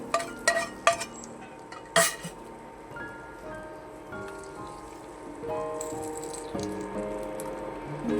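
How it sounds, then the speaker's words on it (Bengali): Fried raisins go into carrot halwa, starting with a few sharp clinks of a spoon against the pot, then a soft, steady stirring and scraping with light metallic taps. "গাজরের মধ্যে দিয়ে দেবো, হালুয়ার মধ্যে দিয়ে দেবো"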